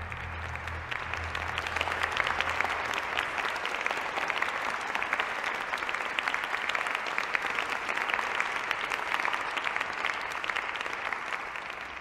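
A large audience applauds at length after a song in an evening concert: dense, steady clapping that holds an even level throughout without any talk.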